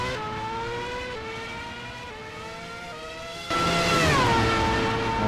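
A race car engine screams at full throttle in a sim racing game on the Singapore street circuit, its pitch stepping up through gears before a louder, closer surge of revving.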